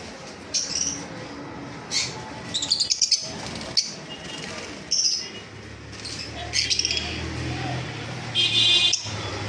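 Pet lovebirds chirp in short, sharp, scattered bursts, some close and loud, over a steady indoor background hum.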